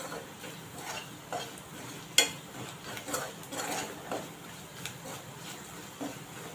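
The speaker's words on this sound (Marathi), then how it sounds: "आता हे मसाले आपण स्लो गॅसवरच परतून घ्यायचे थोडे थोडे." Turmeric, coriander powder and garam masala are stirred and sautéed on a slow flame for black chickpea masala, with a soft sizzle and a series of light spoon scrapes and taps against the pan, one sharper clink standing out.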